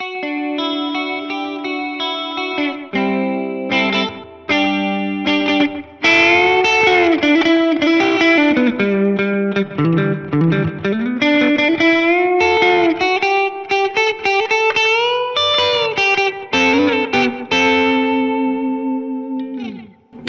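A distorted electric guitar solo through a boost pedal, with bends and sustained lead notes, loud and continuous with brief gaps, soaked in chorus-like effects.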